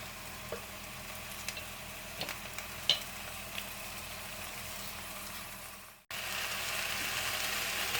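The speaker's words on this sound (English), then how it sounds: "Give that a good mix until it starts to caramelize and the onions become just a little bit translucent" Onions and pumpkin stirred in a pan with a steady frying sizzle, scattered utensil scrapes and clicks throughout, then a brief cut before the hiss carries on slightly louder.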